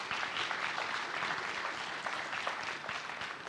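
Graduates at a diploma graduation ceremony receive applause from the hall, a dense, even wash of clapping that holds steady and fairly distant for a few seconds.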